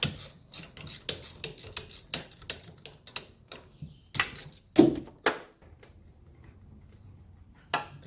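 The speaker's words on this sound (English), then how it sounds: "Back out the locking nut, not allowing the shaft to turn." A 17 mm wrench ratchets as it backs a locking nut off a shock absorber shaft on a Mercedes-Benz 560SL, producing close, rapid clicking and rasping strokes in bursts that then go quiet before a final click.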